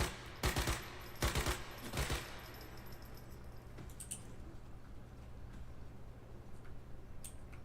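Gunfire in the video game Once Human as targets are shot, with three sharp rapid bursts early on, then lighter scattered clicks and faint distant shots over low background hum.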